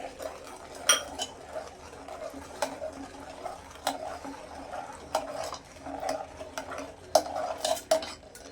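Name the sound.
stirring sugar into milk mixture with spoon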